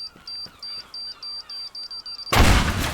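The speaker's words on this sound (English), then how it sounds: "place a bomb on this end." A bomb explodes in the Teardown video game: a fast series of about ten short, high beeps counts down, then a sudden loud, close blast erupts and rumbles on to the end.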